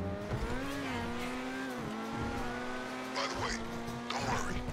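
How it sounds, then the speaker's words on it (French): Tires squeal as a car skids in GTA Online, with a sustained engine drone and sharp screeching bursts rising near the end, while people talk over it. "mais elle dérape trop cette voiture"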